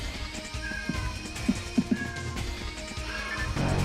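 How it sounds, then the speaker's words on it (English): A pet cat gives a few short, close meows in quick succession amid game background music, with no talking. "Do you love my cat? Or do you love my cat? He is so obnoxious."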